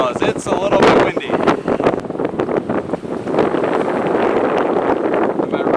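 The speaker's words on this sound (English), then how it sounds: "It's a little bit windy." Strong wind blowing outdoors during a fishing trip, buffeting the microphone in loud, rough gusts that roar and rumble continuously, with people talking over it.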